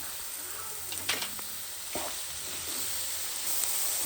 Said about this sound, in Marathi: तर चवीनुसार मीठ घालूत आपण आणि मिठामध्ये थोडा वेळ परतून घेऊ सोयाबीन